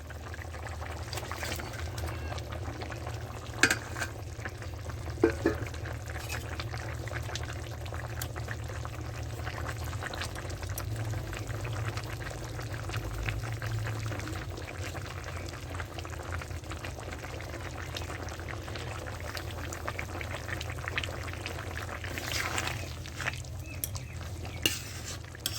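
A thin fish curry of four mixed fish and potatoes simmers in a pot, giving a steady, moderately loud bubbling hiss with a low rumble and a few sharp clinks, with no talking.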